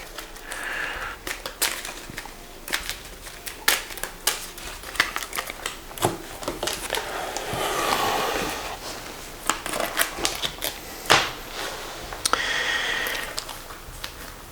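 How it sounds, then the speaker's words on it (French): Cards from a Skytear game deck being shuffled by hand at a table, with quick crisp riffles and slaps in irregular bursts and some softer sliding sounds in between. "Donc il va falloir que je mélange mon deck."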